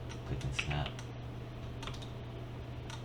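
Computer keyboard and mouse clicks while modeling in 3D software, a short cluster of quick taps and clicks early on, then faint sparse clicks over a steady low hum.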